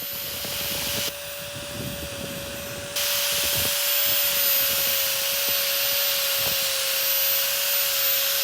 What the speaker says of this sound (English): get all that surface rust out with this wire wheel that I'm using on the end of this grinder